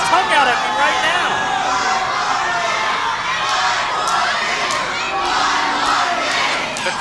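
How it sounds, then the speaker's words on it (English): A wrestling crowd roars and chants at a live match, loud and continuous, with shouts and whoops rising over the din while a commentator talks over it. "The crowd wanting 5 more minutes out of this match."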